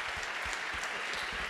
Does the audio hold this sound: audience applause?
yes